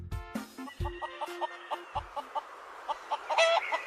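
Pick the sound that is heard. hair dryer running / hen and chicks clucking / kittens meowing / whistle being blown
hen and chicks clucking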